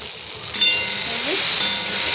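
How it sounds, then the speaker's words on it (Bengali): Okra cooks without water in a covered pan over a low flame, producing a steady close sizzle and hiss that swells slightly partway through. "ভেন্ডিটা আমি জল দিয়ে রান্না করি না, আমি ঢাকা দিয়ে দিচ্ছি, দিয়ে একদম সিমে দিয়ে দিচ্ছি।"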